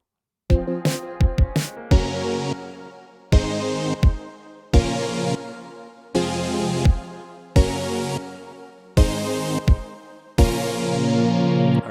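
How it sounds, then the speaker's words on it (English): Drum pattern in a pop music track with repeating kick drum hits and sustained chords in regular bars, loud and full, with no voices. "The drum pattern has changed here."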